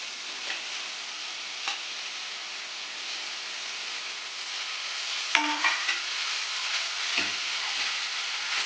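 Sliced mushrooms with capsicum sizzle in a pan for mushroom pepper dry, a steady close frying hiss broken by occasional clinks and scrapes of a stirring spoon.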